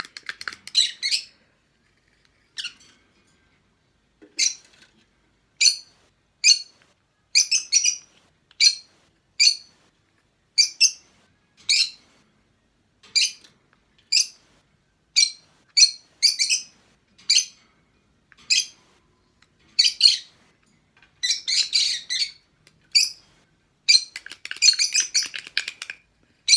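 High, shrill lovebird chirps in repeated short bursts, close and fairly loud, with brief silences between calls and no talking.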